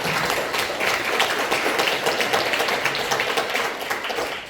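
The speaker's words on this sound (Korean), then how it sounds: "큰 박수 부탁드리겠습니다" Seminar audience in a small parliamentary meeting room clapping steadily for the full stretch, a dense, even patter of many hands at moderate loudness with no voices over it.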